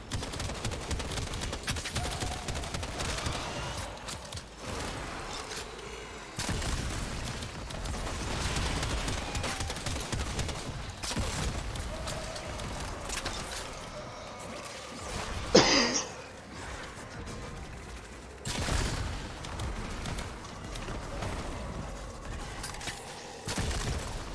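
Rapid gunfire from the video game Warframe, with dense bursts of automatic shots and booming reports repeating close and loud across a long stretch, plus one sharp spike partway through.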